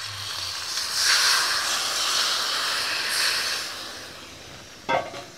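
Water poured into a hot wok hisses loudly into a broad wash of steam that swells and fades over several seconds, ending with a short clatter near the end.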